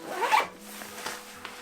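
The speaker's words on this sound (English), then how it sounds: "Zip that up," A padded sling-style camera bag holding a large Nikon 200-400mm f4 telephoto lens is zipped shut: one quick, close zipper pull that peaks early, followed by a few faint clicks and rustles.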